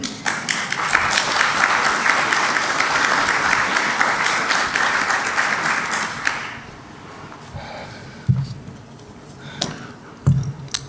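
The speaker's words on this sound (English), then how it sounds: "Let's give them all a round of applause again, please." Sustained applause from an audience at a community candidates' meeting at The Colony at Cal Oaks, steady clapping for about six seconds before tapering to a few scattered claps.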